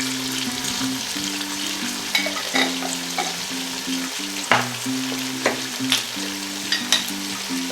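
Masala for kofta curry fries in oil with a loud, constant sizzle, while a spoon scrapes and stirs the pan in irregular knocks, over a steady low hum.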